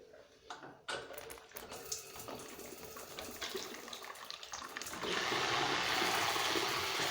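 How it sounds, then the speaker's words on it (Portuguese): An electric shower in a home bathroom is switched on, with a few handling knocks and clatters first, then water bursting into a loud, steady, close hiss that continues to the end. "Vamos abrir aqui o chuveiro."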